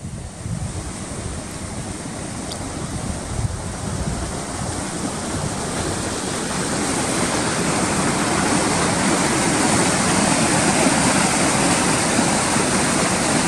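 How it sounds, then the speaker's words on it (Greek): A flooded stream at Agios Ioannis, Sykia, Halkidiki, swollen after a downpour, makes a loud, continuous roar of rushing water that grows slightly stronger over time, with no voices. "Νερό μπόλικο και βουή."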